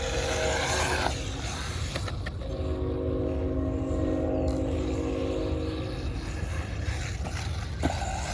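Arrma Typhon Grom RC car with a Castle power system running hard at full throttle, a continuous loud electric motor whine with shifting pitch and steady tire and gravel noise throughout.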